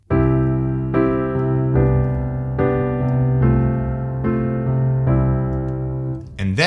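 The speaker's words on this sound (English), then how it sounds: "when we keep the C in the bottom of the chord for each chord" Guitar chords ring out one after another, each struck chord sustaining over a held low C bass note, about six strums at a steady pace, close and clear with no talking.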